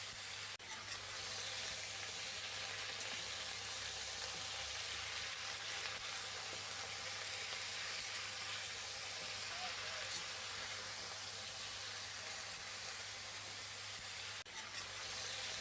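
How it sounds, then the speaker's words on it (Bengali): Washed mixed vegetables for a Bengali five-vegetable curry sizzle steadily in a pan after panch phoron, a continuous broad hiss close by with no talk over it. "আগে থেকে ধুয়ে রাখা সবজিগুলো ঢেলে দিলাম।"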